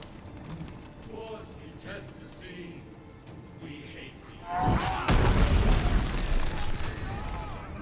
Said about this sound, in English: This is a very powerful barrage.